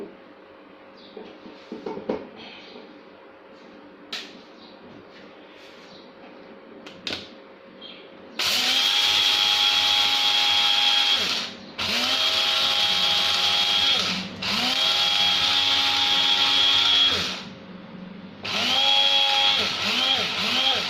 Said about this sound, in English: Now we're gonna grind the rice.